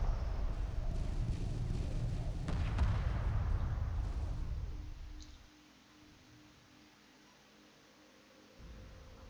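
Torpedo frigates firing in the space strategy game Homeworld Remastered: a dense, rumbling barrage with boom-like bursts that fades away after about five seconds, then a low hum returns.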